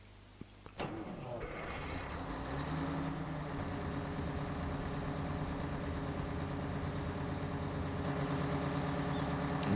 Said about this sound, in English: Really nice engine noise there.